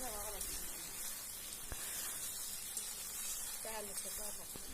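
Spice masala sizzling in a pan for Bengali mutton curry, a faint, steady hiss and crackle with a few clinks of a utensil, under a quiet background.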